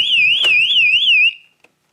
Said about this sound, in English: this button is simulating fire alarm